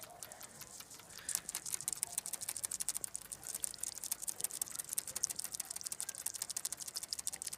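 Poultry drinking from small nipple-style drinkers make a dense, rapid run of light plastic clicks and ticks, close and steady throughout, with no talking.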